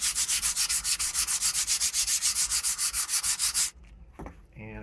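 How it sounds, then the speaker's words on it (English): Light hand sanding over a CNC woodburned QR code, a steady run of fast, even rasping strokes close up that stops abruptly, followed by a few faint handling sounds. "Little light sanding"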